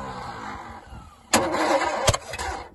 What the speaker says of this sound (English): It starts on a starter and then it just doesn't.